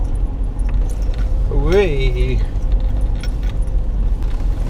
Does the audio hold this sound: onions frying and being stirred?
no